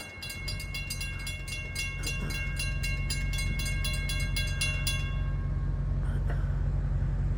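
Locomotive pulling out of a rail siding, a loud steady diesel rumble with a rhythmic clatter of wheels over track joints that stops midway while the engine drone continues, no talk.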